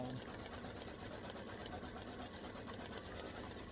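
An embroidery sewing machine stitches a freestanding lace bee design with a fast, steady mechanical whirr and rapid needle ticking, faint and continuous throughout.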